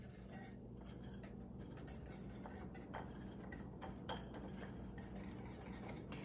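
A tiny wire whisk stirs a pudding mixture in a bowl, giving a steady run of light metallic clinks and scraping against a hum of kitchen background noise.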